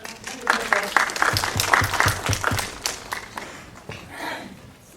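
A festival Q&A audience applauds for a birthday, a burst of close, dense clapping that swells quickly and then thins and fades over a few seconds.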